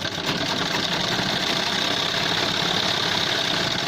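A sewing machine stitches a shirt collar band, its motor running in a continuous fast, even whir close by with no pauses.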